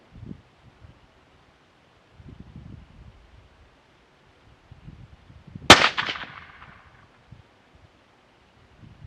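A single sharp rifle shot from a .204 cracks out loud at about the midpoint, trailing off in a short echo, with rustling and faint outdoor movement before and after.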